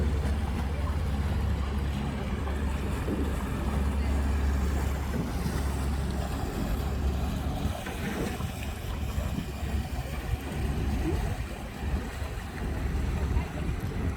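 A boat cruising along a river in the Netherlands, with steady low engine rumble and water wash mixed with wind buffeting the microphone throughout, fairly loud and continuous.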